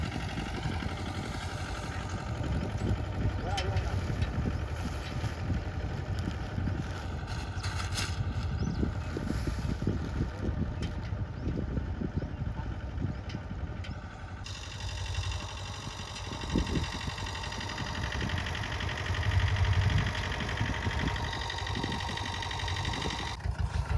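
A low tractor engine chugs steadily at idle, a continuous mechanical drone with faint knocking that stays fairly quiet throughout.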